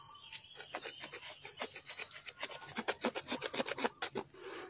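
Plant stem having its bark scraped away for propagation, a close, quiet rhythmic rasping of repeated short strokes that grow sharper and more regular toward the end.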